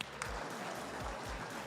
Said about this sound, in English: Let's clap it up for all of the winners, please.